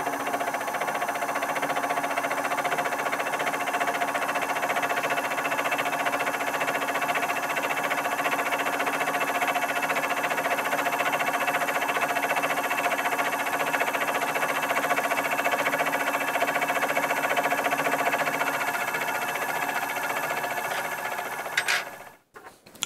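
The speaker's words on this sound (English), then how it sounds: "let's go ahead and cut this second section" A Sherline benchtop mill cuts a second section across a workpiece face, giving a steady, continuous whirring and grinding with a constant hum throughout that stops abruptly at the end; no one speaks.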